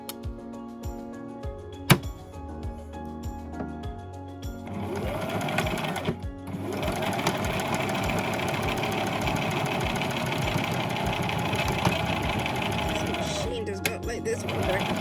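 A sewing machine stitching fabric for a witch-kitty sewing project: a few quiet clicks and a sharp tap, then a loud, steady motorized whir of rapid stitching running close for about ten seconds before slowing, with a voice speaking at times.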